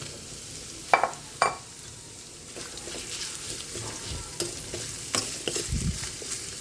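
Pumpkin and onion cooking in a pot for dinengdeng, with a few sharp clanks of a utensil early on, then a steady low sizzle and intermittent scraping stir sounds, close-up and fairly quiet.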